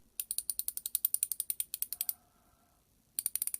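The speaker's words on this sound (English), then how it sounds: "You can tell it is high quality from the ratcheting sound it makes." Rapid, crisp clicking of a Wera Zyklop quarter-inch drive ratchet, a quick run of evenly spaced clicks, a short pause, then another fast burst, close and clear.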